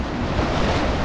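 Sea waves surge and wind gusts buffet the microphone at the TPI Tasik Agung harbour pier in Central Java, a steady loud wash of surf and blowing air with no voices.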